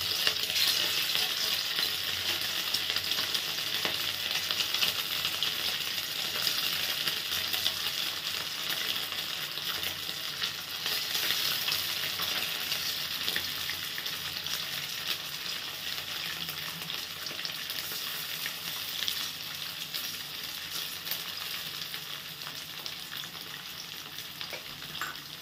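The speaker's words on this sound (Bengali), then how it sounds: "কমিয়ে আগে আমি চিকেনগুলো ভেজে নেব" Lightly coated chicken pieces fry in hot oil over a low flame, giving a continuous, even, bright sizzle that holds steady for the whole stretch with no talking.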